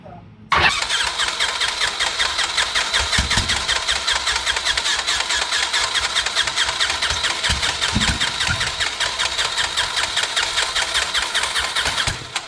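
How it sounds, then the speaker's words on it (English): A rebuilt Cessna 120 light aircraft engine cranks, catches and runs loud and steady close by, with a few sharp popping backfires early on and a brief faint voice, until it cuts off. "Well, those backfires can't be good."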